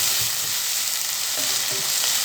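Mushrooms and onions for mushroom mandi rice sauté in a hot pan, giving a loud, dense, continuous sizzle with faint stirring scrapes, up close and with no voices.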